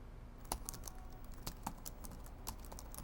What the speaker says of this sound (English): I started typing at my laptop.